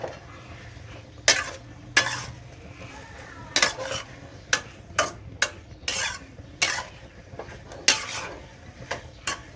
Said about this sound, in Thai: คนนะครับ